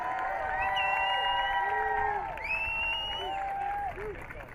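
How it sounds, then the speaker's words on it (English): A crowd claps, cheers and whoops for the athletes at an NCAA Division II field hockey championship, the sound filling the space at a steady level, with whistle-like voices and shouts rising over it. "Let's give all these outstanding student athletes, coaches, and staff a round of applause again"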